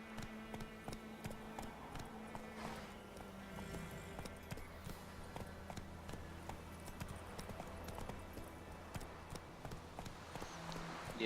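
Horse hooves in the video game The Witcher 3: Wild Hunt, a steady run of rhythmic clip-clop hoofbeats under game music and ambience, fairly faint throughout.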